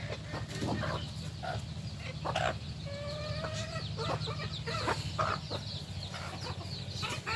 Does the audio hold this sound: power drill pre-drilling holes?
no